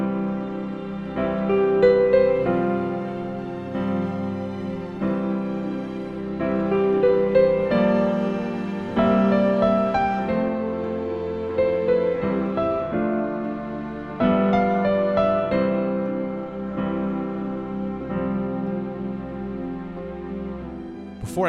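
A solo piano plays the verse of a theme in an intermediate arrangement: steady melody over sustained chords, close and clear, with no talking.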